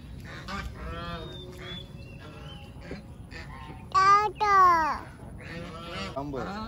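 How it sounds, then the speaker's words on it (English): Ducks honk outdoors on a fresh-air walk, a few loud, nasal calls bursting out close by in the middle of the stretch, with people talking in the background before and after. "Duck."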